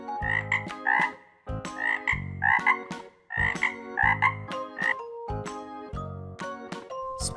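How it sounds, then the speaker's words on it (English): A frog croaks in repeated bursts of quick double and triple calls, clear and close, set against tinkling chime-like music in a children's animal-naming video. "Frog."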